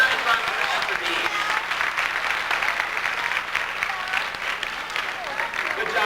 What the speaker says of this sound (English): how about a nice round of applause for Dean?